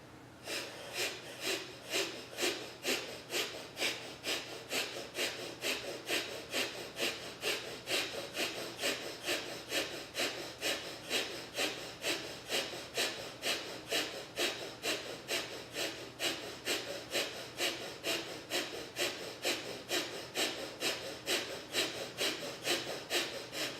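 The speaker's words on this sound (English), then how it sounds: "then we'll begin with breathing in and out the nose" Slow, deep breathing in and out through the nose during a guided meditation, each rasping breath close and audible, repeating in a steady rhythm of roughly two breaths a second for the whole stretch.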